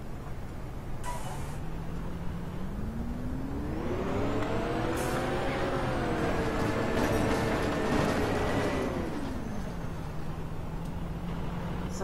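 Engine of a Dart bus in the OMSI 2 driving simulator on a South London route, revving up as it pulls away, holding a steady whining drone for several seconds, then winding back down to idle, alone without talk.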